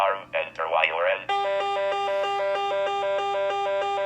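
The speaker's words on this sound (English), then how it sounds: "And that's the alarm." Electronic alarm on a BNS device sounding in a steady repeating pattern of loud, even beeps, preceded by a brief stretch of speech.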